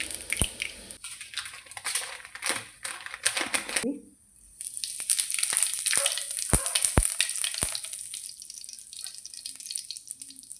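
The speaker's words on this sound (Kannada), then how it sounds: "ನೆಕ್ಸ್ಟು ಸಾಸಿವೆ ಹಾಕ್ಕೊತ ಇದ್ದೀವಿ ಚಟ್ಪಟ ಚಟ್ಪಟ ಅಂತ ಬೀತಾ ಇದೆ" Mustard seeds crackle and splutter in hot oil in a pan, sharp irregular pops over a steady sizzle, close and fairly loud, with a short lull partway through.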